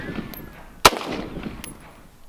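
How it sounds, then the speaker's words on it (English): A single close, sharp gunshot from a Smith & Wesson M&P AR-15 rifle test-fired into the ground, a loud crack with a brief echo over quiet outdoor background. "Okay, test firing. Ready? I'm ready. Into the ground."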